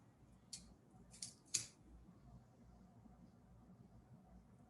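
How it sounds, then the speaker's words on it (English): Three quick, crisp snips of scissors cutting scallions close by, spaced irregularly over a quiet background. "For the scallions, instead of chopping it, I usually just use a scissor."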